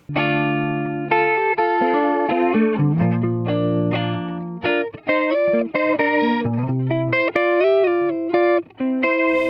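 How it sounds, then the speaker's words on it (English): An electric guitar plays a busy run of chords and single notes through a Korg PME 40X flanger effect in stereo, sweeping and whooshing, loud and continuous with no voices. "So this is the flanger in the stereo position."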